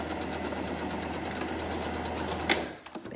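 Sewing machine running steadily as it stitches fabric for a face mask, a continuous close whirring hum that halts abruptly near the end with a brief clack.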